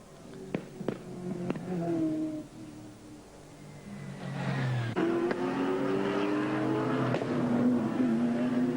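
Sports sedan race cars at the Bathurst circuit in 1992, engines revving and shifting through gears down the hill past Skyline and the Dipper, with rising and falling engine pitch and sharp transients amid loud trackside roar.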